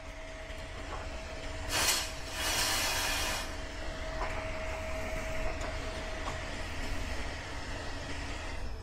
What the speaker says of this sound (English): Let me use the duster here to freeze that thermal sensor up.